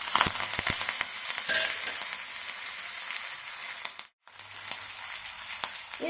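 Curry leaves sizzle and crackle in hot oil with mustard seeds and asafoetida for a curd rice tempering, a close, lively spitting sound with sharp pops that briefly cuts out before the frying resumes.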